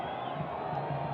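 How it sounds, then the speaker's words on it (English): A football crowd at an under-17 qualifiers semi-final involving Mozambique boos a substitution, a steady, dense wall of massed voices that fills the stands without a break. "Well, the crowd are booing this."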